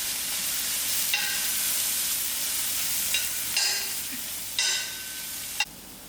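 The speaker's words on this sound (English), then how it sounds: "While the garlic and the chilies are sort of fried out" Crushed garlic and green chilies fry in oil for a spicy, sour rasam, a steady bright hiss broken by several stirring scrapes and a few louder sputtering bursts.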